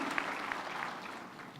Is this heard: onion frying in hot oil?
no